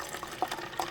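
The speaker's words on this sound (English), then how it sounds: "I'm gonna add the water" Water poured into a pot for Turkish tea, a short burst of close, bubbly glugging and splashing with a couple of distinct gurgles.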